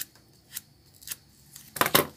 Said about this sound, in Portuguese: Só passar aqui, ó, a tesoura, a ponta da tesoura, olha, que já vai abrindo.